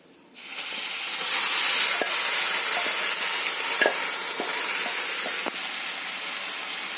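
Pumpkin and carrot tipped into a hot pan crackle and sizzle loudly and steadily, with a few sharp stirring clicks scattered through the frying.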